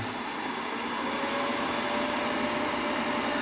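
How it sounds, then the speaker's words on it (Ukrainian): A 2 kW hair dryer running on solar inverter power blows with a constant, steady whooshing hum, with no talking. "І включаю я навантаження. Отакий фен 2 кВт."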